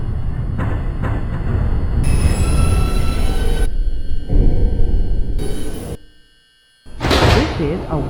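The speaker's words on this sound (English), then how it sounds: "Stand clear of the closing doors, please." The doors of an R142 subway train on the 2 line close at the 3rd Avenue–149 Street station in New York. Loud rumbling and hissing cut to a brief near-silence, then a sharp burst of noise follows as the train starts.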